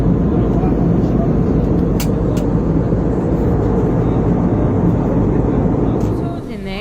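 Steady, loud broadband roar of an airliner cabin during a long flight from Phuket, a constant rumbling hum with a few faint clicks and a drop in level near the end.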